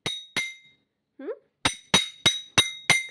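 A baby bangs a spoon against a dish, giving sharp metallic clinks: two strikes, a short pause with a brief voice, then five more evenly spaced clanks, close and distinct.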